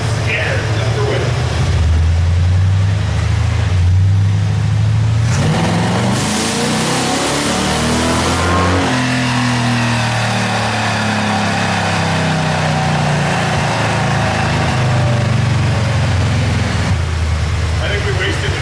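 A rear-wheel-drive Chevrolet Cavalier sleeper on a dyno with nitrous, its engine loud and close as it revs up and climbs in pitch, dropping back and rising again, with voices talking over it.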